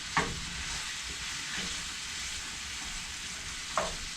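Beef browning in a pan on the stove before it goes into a slow cooker for chili, a soft continuous sizzle broken by a few sharp utensil knocks near the start and end.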